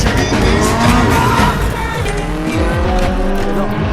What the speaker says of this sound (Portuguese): Johnny Storm está prestes a começar um racha com um carro que ele próprio construiu do zero.